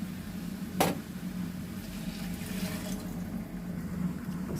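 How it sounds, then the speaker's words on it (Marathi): Water from a pressure cooker is poured into a pan of Agri-style mutton gravy, giving a steady, moderately loud splashing pour with a single sharp knock near the start and no talking. "आता मी कुकरमधलं जे पाणी आहे ते याच्यामध्ये घालणार आहे"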